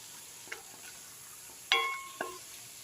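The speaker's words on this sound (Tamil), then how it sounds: "கறியை வந்து ஃப்ரை பண்ணிகிட்ருக்கேன்." Boiled mutton pieces fry in a pan with onion, tomato, ginger-garlic paste and green chilli. A faint, quiet sizzle runs underneath a few sharp metallic clinks and scrapes from the spoon against the pan.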